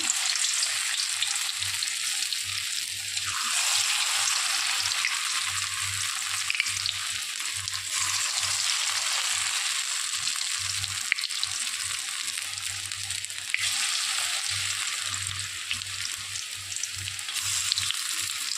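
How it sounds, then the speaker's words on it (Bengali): Fritters of drumstick flowers fry in hot oil in a wok, a continuous crackling sizzle that swells and fades as pieces go in and are turned, with faint low clatter of utensils beneath. "আমি কড়াইতে তেল দিয়ে দিয়েছি। এবারে তেল গরম হয়ে গেছে"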